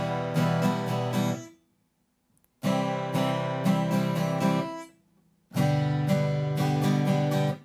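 Strummed guitar chords ring out in three bursts, each cut off by a clear gap of silence at the chord change before the strumming resumes, with a steady, even rhythm inside each burst.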